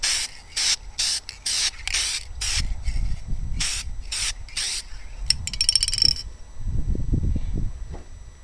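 Krylon Looking Glass spray paint hisses onto glass outdoors in a string of short, loud bursts, followed by rubbing and handling noise close to the mic.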